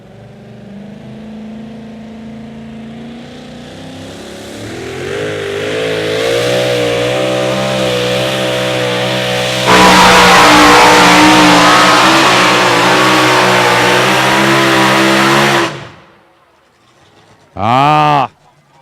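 A two-wheel-drive pulling truck at a night pull in Rock Valley. The engine climbs from a low idle into a loud, wavering high-rev scream that holds for several seconds and then cuts off abruptly, followed by one short, sharp rev.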